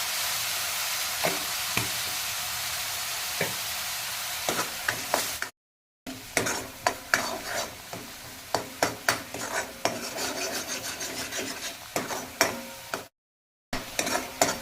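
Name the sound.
onion paste frying with salt in pan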